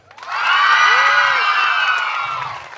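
A crowd of women at a church service cheers and shouts loudly together, with clapping mixed in, the sound rising quickly and sustaining before easing off.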